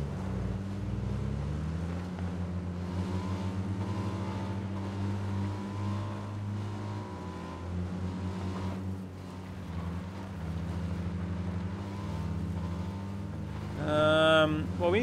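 Car engine in PUBG on Xbox One, a steady low droning hum that runs throughout at moderate level, with a brief voice near the end.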